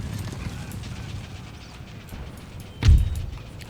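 Horses clip-clop in a cavalry scene from the video game Empire: Total War, a steady patter of hooves with a brief heavy thud near the end.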